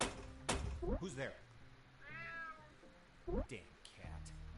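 Several meows from a cat in the video game UnMetal, mixed with other game sounds at a moderate level.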